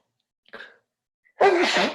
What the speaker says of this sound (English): I sneezed twice.